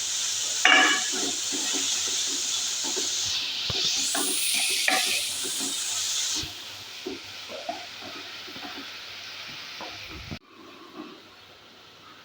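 Coriander and curry leaves dropped into a pan of frying onions, a steady loud sizzle and hiss with stirring clatter that later quiets to a softer crackle.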